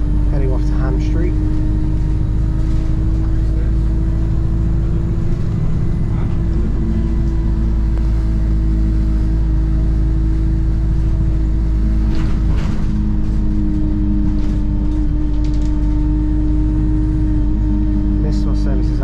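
A Stagecoach bus pulls away from a railway station, its diesel engine holding a steady loud drone with air-brake hiss and occasional clatter, while voices talk over it.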